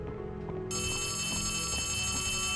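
Telephone ringing in the Poppy Playtime Chapter 3 video game, a bright electronic ring that starts abruptly after a short moment of low ambience and continues steadily and loud to the end.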